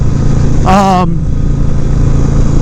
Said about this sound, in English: It's the noise, kind of the thump from the V-twin